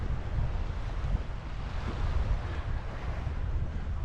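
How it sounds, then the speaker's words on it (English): Small sea waves breaking on the shore at Puerto de Pollensa, a steady, loud wash of surf with low rumbling and some wind noise across the microphone, continuous with no voices. "but they do make a lot of noise, these little waves."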